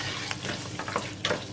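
Chicken pieces and onion sizzling in a pot with a little salt, a steady close crackle and hiss with occasional stirring scrapes.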